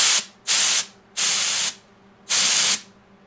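Four separate blasts of brand-new, room-temperature cans of compressed air, each a loud, steady, broadband hiss of about half a second, with short silent gaps between them.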